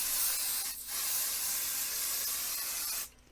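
Spray adhesive hissing onto quilt batting in a steady, close aerosol burst lasting about three seconds, with a short break near the start before it cuts off.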